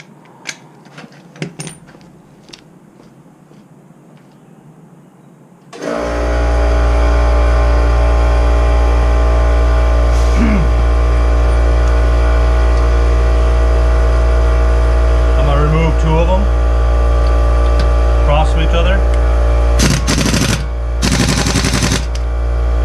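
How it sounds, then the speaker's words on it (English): An air compressor starts after a few quiet seconds of small clicks and runs loudly with a steady deep hum as it fills, while occasional sharp knocks and a man's brief speech sound over it. "When the air compressor fills with air, so right now I have to wait."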